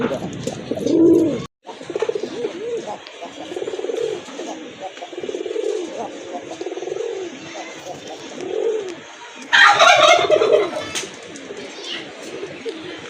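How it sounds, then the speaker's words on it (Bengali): A turkey calls beside domestic pigeons at a pigeon sale: steady low cooing runs throughout, then a loud, harsh burst of calling breaks in near the end, close by. "এই যে পাশে টার্কি ডাকে"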